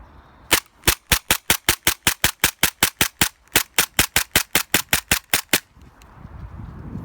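A VFC HK45CT gas blowback airsoft pistol fires in freezing weather, about twenty sharp, evenly spaced cracks in quick succession, loud and close, followed by a short rustle afterward.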